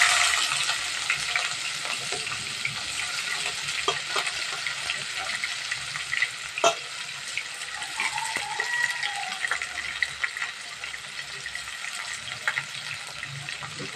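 Chopped onions frying in hot oil for a kidney curry, a continuous crackling sizzle with scattered clicks and a brief sharper tap, close up, with no talking.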